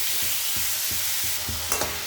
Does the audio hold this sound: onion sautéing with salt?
yes